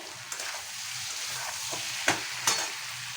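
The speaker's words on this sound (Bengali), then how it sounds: "আধা চামচ কম দিলাম জিরে, একটু ভেজে নেব" Cumin seeds frying in hot oil, a steady close sizzle with a few sharp crackles and a couple of brief spoon scrapes.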